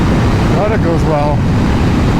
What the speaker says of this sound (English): The wind noise is a lot